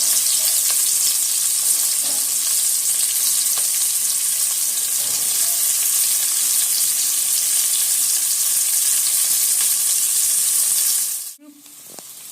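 About half a kilo of sliced onions frying in a pan until golden, a steady loud hiss of sizzling oil with faint stirring taps, close up, then cutting out abruptly near the end.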